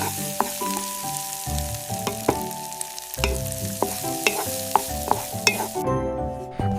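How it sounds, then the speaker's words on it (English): Food sizzles in a hot pan while it is stirred, a steady frying hiss broken by scraping strokes, with melodic background music playing throughout. "I am cooking."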